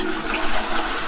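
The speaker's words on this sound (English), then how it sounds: "Toilet, does it flush well?" A hotel bathroom toilet flushes loud and close, a rushing gurgle of water that swells and churns for the whole stretch without any speech.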